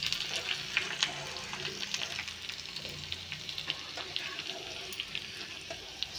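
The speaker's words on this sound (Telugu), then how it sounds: "ఇప్పుడు నేను పోపు అనేది వేసుకుంటున్నాను" Cumin, mustard seeds, dried red chillies, crushed ginger and garlic sizzling in hot oil for a sambar tempering, a steady close crackle with scattered pops and spatters.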